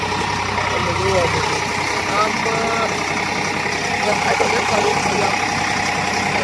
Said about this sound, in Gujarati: ટ્રેક્ટર આવી દીધું છે